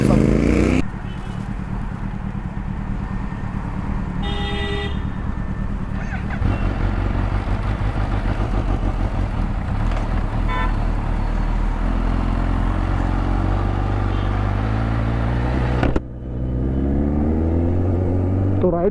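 Kawasaki Ninja H2 motorcycle engine running loud and steady at the start of an early-morning ride, a continuous low rumble throughout with a brief cut near the end, voices talking over it.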